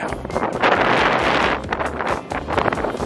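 Strong wind buffets the microphone on the open deck of a cruise ship, a loud continuous roar that surges and gusts throughout without any speech.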